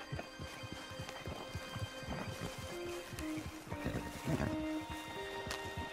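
Horse hooves clip-clopping in a steady rhythm while riding in the video game Red Dead Redemption 2, close and continuous, with faint tonal game sounds behind.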